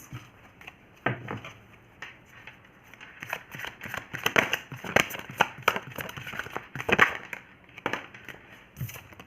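Tarot cards being shuffled and drawn from a deck, giving soft irregular papery flicks and taps up close, quiet and scattered across the stretch with short bursts of rustling.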